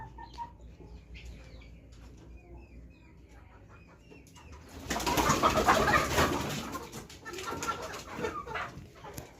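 Sonali chickens on a poultry farm, scattered clucks and soft calls at first, then a louder burst of flapping and clucking midway that continues in bursts.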